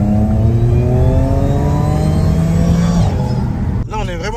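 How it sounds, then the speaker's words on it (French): Audi S5 with a supercharger heard with the windows open, a loud sustained engine note with climbing whine that fades as revs drop, and a brief voice near the end. "écoutez le son du compresseur avec les vitres ouvertes."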